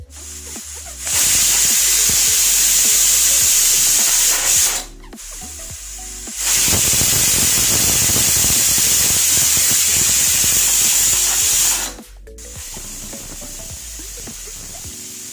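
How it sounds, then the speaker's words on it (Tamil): A pressure cooker of coconut milk rice releases steam in two long, loud, harsh hissing bursts, each lasting several seconds with a short pause between, close by and with nobody talking. "இப்போ மூடி வச்சுட்டு 3 விசிலுக்கு விட்டுருவோம்."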